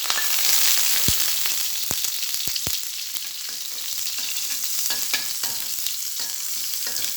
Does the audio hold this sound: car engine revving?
no